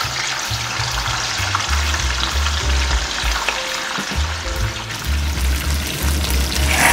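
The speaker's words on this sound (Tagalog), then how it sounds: "ipiprito nyo lang lahat ng ating isda" Fish sizzles and crackles loudly in hot oil in a pan, a constant dense frying hiss with faint stirring clinks throughout, close up and without speech.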